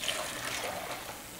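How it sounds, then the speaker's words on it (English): Water being poured off the top of a settling pigment mixture, a steady close trickle and splash of liquid running continuously without a break, with no talk. "So I pour off the top."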